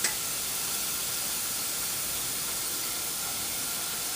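Peppers, onion and garlic fry in a hot pan, giving a constant, even hiss of sizzling that is close and moderately loud, with no talk.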